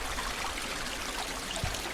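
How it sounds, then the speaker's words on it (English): Small waterfall on Tarryall Creek, heard as a steady, fairly quiet rush and trickle of flowing water throughout, with no voices. "Tiny waterfall."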